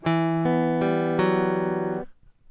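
Guitar riff from a song picked out as a run of ringing, sustained chords and notes, with four clear attacks about every half second before the sound cuts off.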